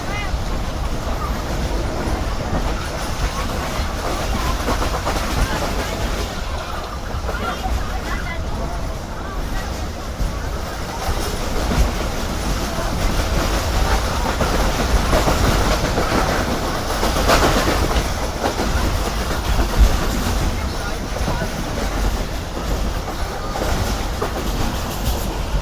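The Islamabad Express runs steadily on the rails through a station area, with a continuous rumble and rhythmic clickety-clack heard from inside the coach. Passenger chatter murmurs underneath throughout.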